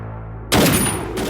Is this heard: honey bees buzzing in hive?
no